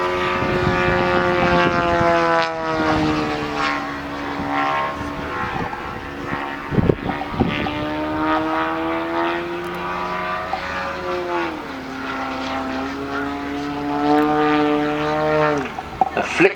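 A powerful scale model Yak 54 aerobatic airplane flies a display at an air festival, its propeller engine droning loudly and continuously, pitch rising and falling through the manoeuvres.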